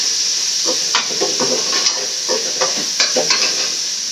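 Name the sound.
raw plantain sautéing in a pan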